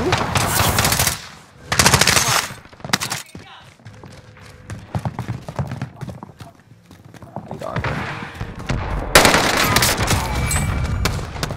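Guns fire in the shooter game Warzone, with loud bursts of rapid automatic gunfire in separate clusters and sharper single shots between them, while players talk over the action.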